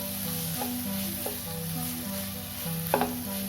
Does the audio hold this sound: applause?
no